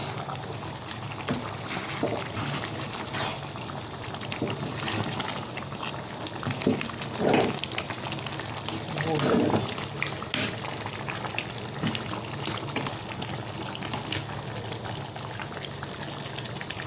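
Soup stirred in a pot: a steady bubbling, liquid wash throughout, with a couple of brief spoon scrapes and sloshes standing out near the middle.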